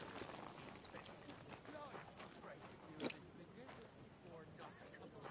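Horse hooves from the video game Kingdom Come: Deliverance II clip-clop at a steady trot under continuous talk and background bustle, with one sharper knock partway through.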